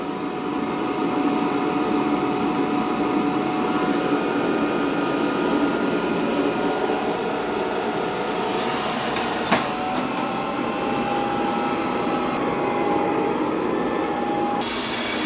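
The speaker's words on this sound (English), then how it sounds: "now it's vacuuming that carpet for the second time" A Eufy robot vacuum and mop runs a second pass over a carpet, giving a steady, loud whirring drone with a constant motor whine that shifts pitch slightly partway through, with no talking.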